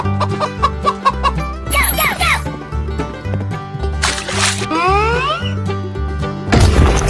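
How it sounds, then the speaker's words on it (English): A chicken in a 3D animal video game clucks in short rapid bursts over a looping game soundtrack, with swishing effects and a loud crash near the end. "Chicken."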